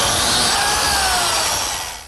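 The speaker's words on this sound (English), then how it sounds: "I'm going to cut some slots for some biscuits." A biscuit joiner cuts slots into wood panels for a sharpening station: one loud, close whining cut lasting about two seconds that winds down at the end, with no talking.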